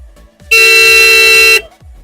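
A PRM car horn sounds once in a loud, steady blast lasting about a second, up close and alone, with quiet room noise before and after.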